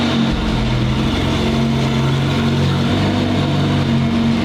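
A Porsche sports car engine with a non-stock-sounding exhaust idles and revs, a loud, steady low rumble with a slight dip in pitch midway, no voices.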